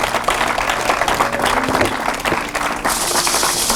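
A church congregation breaks into loud, sustained applause for the Lord during a sermon, dense clapping filling the room throughout.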